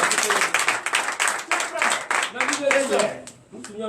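Congregation at a night deliverance and prophecy church service clapping briskly and acclaiming Jesus, the dense claps mixed with shouted voices and cheering throughout.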